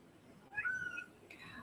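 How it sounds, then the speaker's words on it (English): Duke, a pet cat, lets out a couple of faint, whiny meows indoors, a drawn-out plaintive cry followed by a shorter one over quiet room tone. "if you hear a cat whining in the background"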